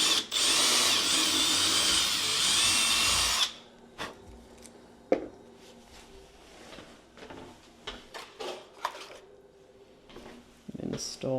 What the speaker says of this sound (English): So now I'm just gonna drill all the way through.